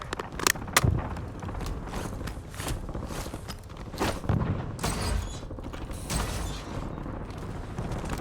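Clicks, clacks and a metallic slide of a weapon magazine reload in the shooter game Call of Duty Warzone, several sharp mechanical hits spread over steady game background noise, no talk.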